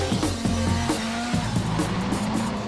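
A drift car slides sideways, its engine droning steadily throughout, with a squealing tone from the tires riding on top of the engine noise.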